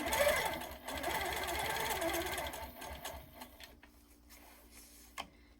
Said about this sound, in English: So I'm going to stitch in the ditch here.